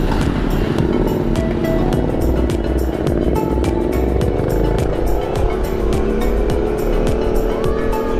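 Motorcycle ride through road traffic in Daet, with steady low engine and tire rumble, passing vehicles and road noise continuing loud and close throughout without talk.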